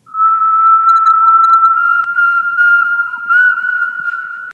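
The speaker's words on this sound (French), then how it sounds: "Le sifflement reprend." A single clear, sustained whistled tone, close and loud, wavering slightly in pitch with brief breaks over a few seconds.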